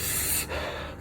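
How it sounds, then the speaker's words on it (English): A deep breath drawn in during a breathing exercise: one loud, rushing inhalation, close and breathy, then a quieter airy tail, with no voice. "So the breathing, we breathe into the core."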